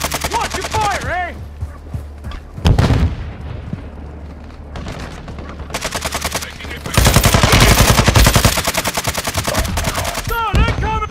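Gunfire in a Warzone 2 quads match: loud bursts of automatic rifle fire and sharp single shots, with a heavy boom, alternating with brief pauses and radio-style voice chatter between volleys.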